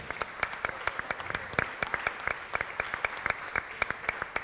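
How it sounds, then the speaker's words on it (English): Audience at an art talks event breaking into applause, dense overlapping claps with a few sharp nearer hand strikes standing out, continuous and fairly lively throughout. "Wow, a round of applause"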